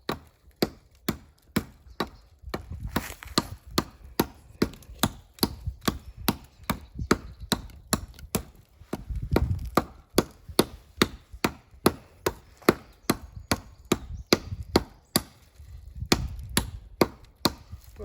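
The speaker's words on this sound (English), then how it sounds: "it shows you the bronze axe is working pretty good" Bronze axe chopping wood low on a living tree in a forest, sharp rhythmic thwacks about once a second, close and loud, with brief pauses and soft rustling between strikes.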